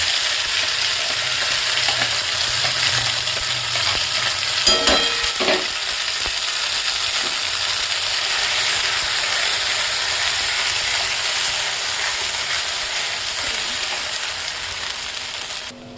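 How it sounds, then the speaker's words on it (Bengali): Batter poured into hot oil seasoned with black cumin for koraishutir kochuri, frying with a constant loud sizzle and a brief burst of clatter near the middle, with no speech. "এবার ওর মধ্যে আমরা আমাদের ব্যাটারটা ঢেলে দেবো।"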